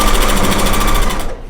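A regular home sewing machine stitches through a quilt in a fast, steady mechanical chatter, loud and close, stopping abruptly at the end.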